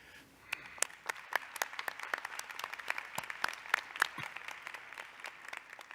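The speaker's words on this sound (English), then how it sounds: "I'd like to ask the graduates to join me in a well-deserved round of applause for the loved ones" Graduation commencement audience applauding for loved ones, a sustained patter of many hands clapping at moderate distance with sharp individual claps standing out, no talking.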